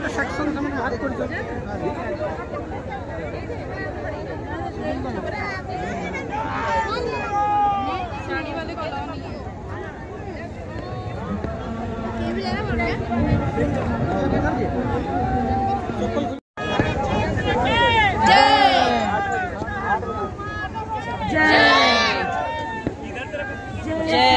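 Steady crowd chatter fills a riverside ghat during Diwali lamp celebrations in a Marwari neighborhood, many overlapping voices near and far, with a brief dropout midway.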